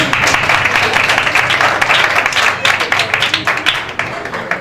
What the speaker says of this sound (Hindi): बेटी के लिए जोरदार ताली बजाएं।